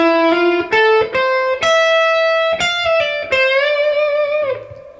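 Electric guitar plays a solo lick, a loud, clear run of sustained, bent notes with sharp picked attacks, ending on a held note that fades away.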